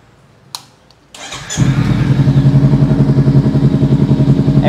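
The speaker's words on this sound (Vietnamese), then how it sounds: "cho anh em nghe tiếng bô cái" Small sport motorcycle with an aftermarket exhaust system fires up after a few faint clicks, then idles loud and close with a steady, throbbing rumble that carries on to the end.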